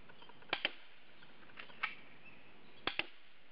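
A Smith & Wesson KWL is fired at a box target from twenty feet, giving sharp, fairly faint pops in three closely spaced pairs separated by quiet pauses.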